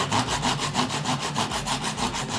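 A hand saw flush-cuts a wooden plug, quick rhythmic back-and-forth rasping strokes, about a dozen, close and clear with no talk.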